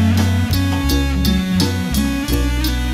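Loud cumbia dance music at a fraternity dance party, with a steady thumping beat, bright percussion hits and layered melodic instruments driving along without any talking.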